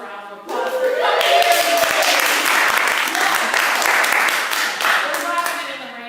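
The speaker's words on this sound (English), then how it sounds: "give yourselves a round of applause" A room full of people breaks into loud, sustained applause, dense clapping that holds steady for several seconds with a few voices mixed in.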